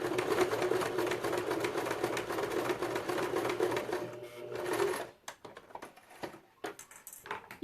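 A Janome 2008 domestic sewing machine stitches vintage synthetic leather with a fast, steady mechanical whir and rapid needle clatter. It runs for about five seconds, then stops, leaving scattered light handling clicks.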